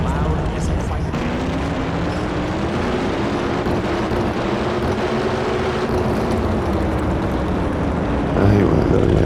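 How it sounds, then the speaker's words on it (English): Drag racing engines roar steadily and loudly through an NHRA Championship Drag Racing video game scene, a constant heavy engine drone with a slowly rising and falling tone, briefly swelling near the end. "These engines hit decibel levels of 450 dB, which is as loud as a fighter jet."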